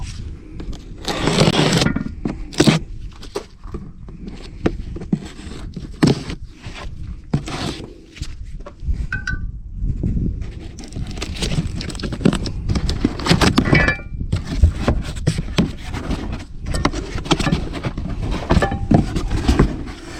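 A remanufactured Alliance brake shoe kit box for a 2004 Mack Vision truck is opened up close, with papery scraping, tearing and rustling in irregular bursts over about twenty seconds, plus faint knocks of parts inside.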